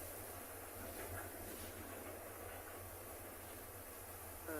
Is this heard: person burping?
no